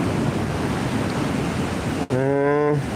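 Surf at a beach: steady broadband wash of waves and wind roaring close to the microphone, cut off near the end by a brief voiced tone.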